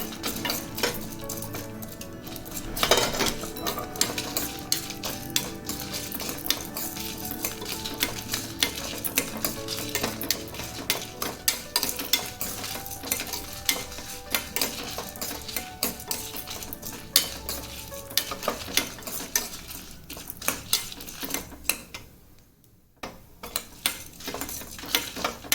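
Lentils roasting in a dry pan on the stove while a spoon stirs them, giving a steady run of scraping and light rattling clinks that continue without pause, with a short quiet gap near the end.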